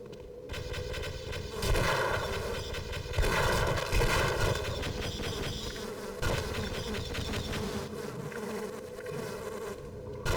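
Bee enemies in Half-Life on PS2 buzz loudly and continuously nearby, a dense droning hum with intermittent thumps of gunfire mixed in.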